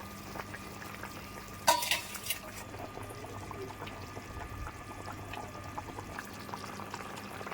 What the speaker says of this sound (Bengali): কষানো হয়ে গেছে, এবার দিয়ে দিচ্ছি গরম জল।